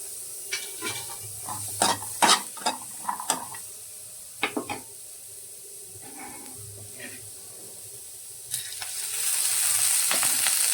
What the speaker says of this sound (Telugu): కాస్తంత ఆయిల్ ఫ్రై చేస్తాం.